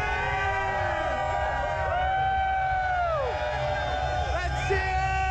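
A crowd at the Keystone gondola's opening day screams and whoops in a sustained, dense roar of overlapping voices, loud and close, with shrill individual yells rising above the mass.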